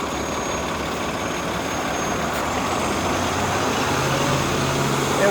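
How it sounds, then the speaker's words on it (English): A double-decker bus idles in slow city traffic on a Toronto street, a steady low diesel rumble close by that fills the whole stretch with only slight variation. "I guess I'll be nice and let this double bus in."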